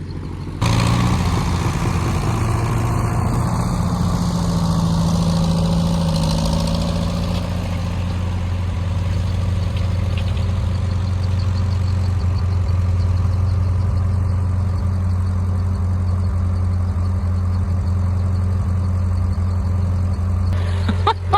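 A half-track vehicle's engine runs steadily at low idle as the machine rolls backward out of deep snow, a continuous loud rumble with a slight rise partway through, and no voices.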